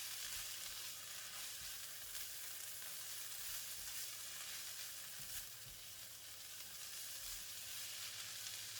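Yellow onions and mixed vegetables frying in a pan for crab fried rice, a continuous soft sizzle and hiss with occasional light stirring clatter, steady and even throughout.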